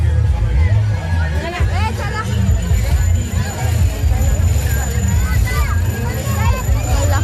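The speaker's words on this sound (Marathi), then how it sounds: "किती गर्दी बघा आकाश चाललाय इथे गर्दी बघा" Dense crowd babble at a busy outdoor festival with food stalls, many voices overlapping close by under a constant murmur, with occasional clearer voices.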